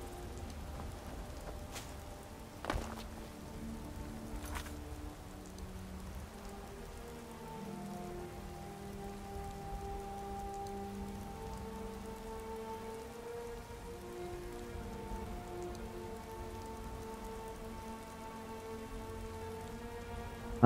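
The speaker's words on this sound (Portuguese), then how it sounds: "o Duin invocou a chuva mesmo" Steady rain falls during a storm in the video game Skyrim, a continuous soft patter on surfaces with a couple of sharp ticks early on and faint tonal ambience behind it.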